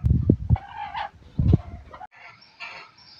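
A chicken clucks and squawks in a few short, loud bursts close by, with a quieter raspy call trailing after, and no speech over it.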